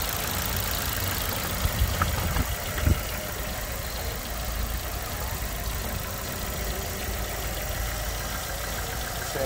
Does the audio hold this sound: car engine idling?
yes